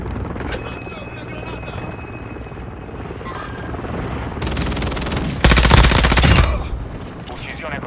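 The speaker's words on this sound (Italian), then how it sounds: "Elicottero di supporto alleato in zona." Allied support helicopter rotor in Call of Duty Modern Warfare 2 multiplayer, a steady thrumming drone mixed with bursts of automatic gunfire that swell loud near the end, with spoken game announcements over it.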